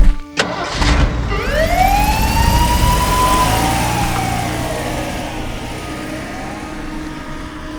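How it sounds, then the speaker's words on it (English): A police car pulls away with its siren wailing in a horror audio drama, a loud sweeping siren rising and falling over engine rumble after a door thud, slowly fading as the vehicle drives off. "saw the police driving away"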